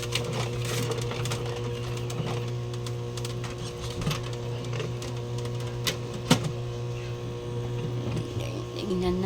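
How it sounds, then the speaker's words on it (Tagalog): An HP Smart Tank 750 printer runs a photocopy with a steady mechanical hum and faint clicks and whirs, close and continuous, while a person speaks over it. "Testing kung mag-xerox."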